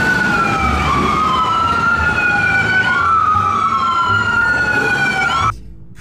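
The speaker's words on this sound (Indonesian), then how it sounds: "Kita menemukan ambulans." A toy ambulance's electronic siren wails loudly and steadily up close, its looping pitch sweeps repeating for several seconds before cutting off abruptly near the end.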